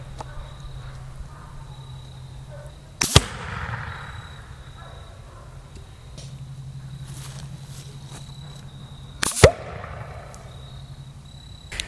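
A spud gun firing pain dart ammunition on a long range test, giving two sharp, loud bangs several seconds apart over faint outdoor insect buzz.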